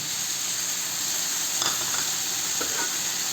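Dried fish frying in a pan as a little water is added, a constant hissing sizzle with a few sharper bursts and stirring scrapes, close and alone.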